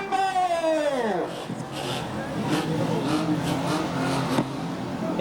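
Unlimited banger racing cars rumble around the approach lap at Ringwood Raceway before an open championship final, a steady roaring engine drone with a falling whine at the start, heard under loud trackside commentary.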